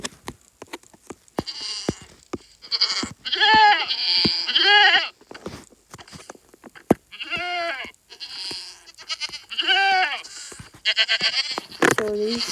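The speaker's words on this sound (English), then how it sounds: "And last mob, but certainly not the least, is the goat." Goat in Minecraft bleating several times in short, wavering cries spaced across the stretch, loud and close, with clicks and game noises between them and someone talking over parts.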